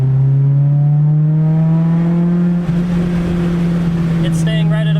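A car's engine running on an E52 ethanol blend drones loudly at full throttle, its steady tone climbing slightly as it accelerates, with wind noise rising near the end.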